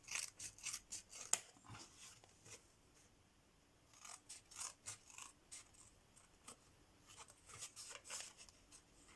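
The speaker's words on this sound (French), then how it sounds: "Je me sers de ces petits ciseaux" Small scissors snip through fabric for a tag, a series of quiet, crisp cuts in short irregular bursts, close up and alone.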